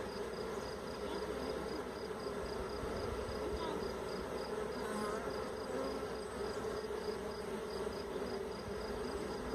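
A captured honey bee swarm gives off a steady, dense buzzing hum as bees land and crawl nearby, with no talking.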